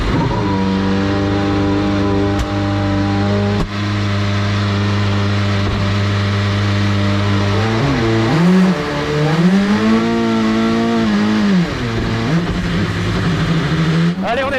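Rebellion R13 LMP1 race car engine idling with a loud, close, tonal drone, then blipped and revved in several rising and falling sweeps; faint voices in the background.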